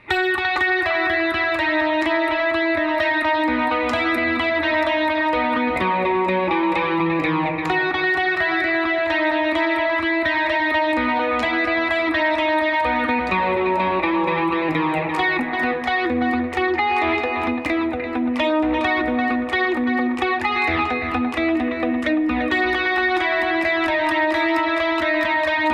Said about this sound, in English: let's go through that main riff in full speed with the effects on